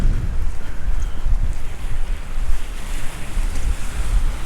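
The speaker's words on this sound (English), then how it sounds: "Still walking with the wind right now." Wind buffets the microphone on a beach at Geiger Key in Key West, Florida, with ocean waves washing in behind it, a constant loud rumbling roar throughout with no talking.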